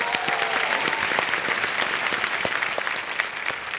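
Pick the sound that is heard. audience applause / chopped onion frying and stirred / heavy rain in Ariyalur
audience applause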